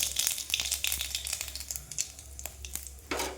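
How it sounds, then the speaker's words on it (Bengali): In a kadai of mustard oil, mustard seeds and a dried red chilli fry with a faint, sparse crackle and scattered small pops over a low steady hum. "কড়াই সর্ষের তেল দিলাম, একটা শুকনো লঙ্কা দিলাম আর সর্ষে ফোড়ন দিলাম।"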